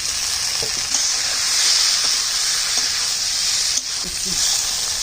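Pointed gourd pieces fry in a pan with a steady, dense sizzle that runs throughout, close and fairly loud, with a few faint knocks beneath.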